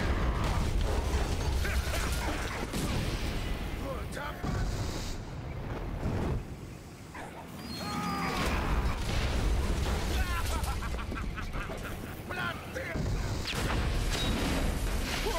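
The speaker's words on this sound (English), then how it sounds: "Yeah, your tank's exploding, sucker." A tank explodes in the video game Valiant Hearts: The Great War amid dense game noise, with crashing, popping bursts and mechanical rumble at steady loudness and a brief dip partway through.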